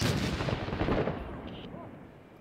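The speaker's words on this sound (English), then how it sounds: "Did someone else just throw a grenade?" A grenade goes off in the Iraq war shooter Six Days in Fallujah: a loud, close, booming blast that rumbles and fades away over about two seconds, with no talking over it.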